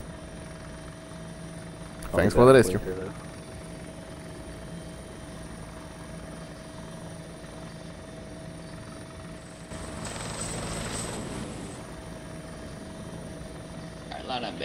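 A helicopter in the video game Arma 2 drones steadily throughout at moderate level, a constant rotor and engine hum under brief radio chatter from players.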